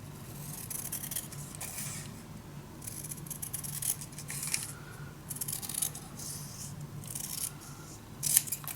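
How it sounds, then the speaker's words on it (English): Scissors snip through paper for a handmade mini album made from envelopes, a quiet run of short, close cuts and rustles with no voices. "Maybe with the scissor, that's a better idea."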